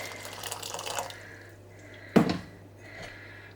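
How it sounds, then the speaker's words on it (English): Hot water splashes and trickles into a bowl set up for melting chocolate, a soft running pour with one sharp splash about two-thirds through, heard close in a quiet kitchen. "So I'm gonna put my hot water in there"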